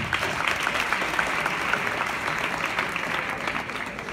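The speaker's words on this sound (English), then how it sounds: "A round of applause, please." A crowd at a school event claps steadily in a dense, even wash of applause that carries on throughout without pause.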